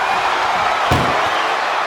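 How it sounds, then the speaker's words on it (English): A single heavy slam of an ambulance door in the WWE 2K24 wrestling video game, a sharp loud bang over a steady crowd roar from a match arena. "Pushing with every fiber of their being to slam the door."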